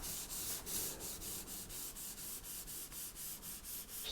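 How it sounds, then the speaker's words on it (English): Pastel being softened and rubbed away across paper gives a steady, close, dry scrubbing with regular strokes about every quarter second, heard alone without talk. "I'm going to soften it and rub it away into the outer area"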